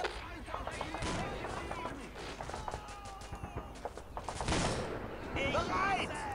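Rapid gunfire from the WWII strategy game Men of War: Assault Squad crackles throughout, bursts of machine-gun and rifle shots layered over battlefield rumble, steady and moderately loud with no talk.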